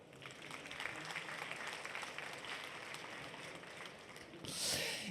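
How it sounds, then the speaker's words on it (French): A large conference audience claps steadily and faintly for several seconds, ending in a louder, brighter swell of applause. "Également pour KFC, je vous demande d'applaudir son directeur marketing Pierre Caillot."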